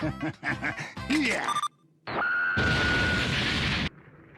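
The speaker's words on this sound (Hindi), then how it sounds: "बू को धमाका पसंद आया।" Cartoon explosion in a Hindi-dubbed Dragon Ball Z Kai scene after a game over: a dense, loud blast that holds for over a second and follows a burst of squeaky cartoon effects and a rising whistle.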